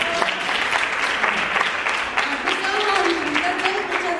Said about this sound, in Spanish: un aplauso para todos los que participaron